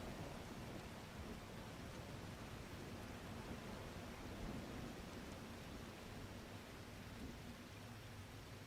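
A video game storm sends steady rain hissing across a broad band for the whole stretch, with a low rumble of thunder underneath, fairly quiet overall and with no voices.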